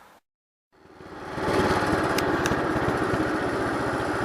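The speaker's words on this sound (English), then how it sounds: "So I'm out mowing with 88." A riding lawn mower mowing leaves starts up after a short silence, its engine settling into a loud, steady drone close by, with no talking.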